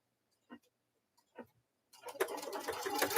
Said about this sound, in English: it's going to stitch out the quilting on there